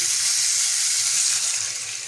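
Chicken drumsticks fry in a pan with a steady, loud hissing sizzle that holds evenly throughout, close up and without any talking.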